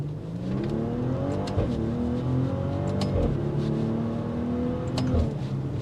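A 2022 Maserati Levante with 424 horsepower pulls away hard from a standstill in sport mode, its engine revving loudly and climbing through several paddle-shifted gears, with short breaks between the rising pulls.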